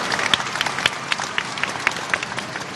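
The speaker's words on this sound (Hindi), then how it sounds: "एक बार जोरदार तालियां बजाकर सभी लाडलियों का स्वागत करें।" An audience at the Ladli Laxmi state festival in Madhya Pradesh claps to welcome the Ladli Laxmi girls, a burst of scattered hand claps with crowd murmur underneath.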